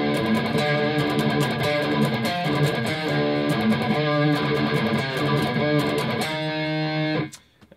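A distorted electric guitar plays the midsection riff of a song at a slowed-down practice tempo, with chugging, sustained notes throughout before it stops suddenly near the end.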